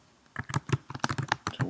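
Rapid, irregular keystrokes on a computer keyboard as a web search is typed, with close, crisp clicks in quick bursts and no talking.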